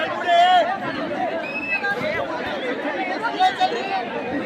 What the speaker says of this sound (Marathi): मी त्या दिवशी लालबागला गेलो होतो मुखदर्शनच्या दिवशी तर आपल्याला ही अशी गर्दी दिसली